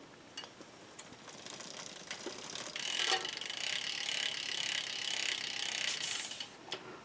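A bicycle cassette freewheel clicking steadily as the crank turns while a pipe cleaner sits between the cogs, a faint close ratcheting that grows denser and louder midway, with no talk.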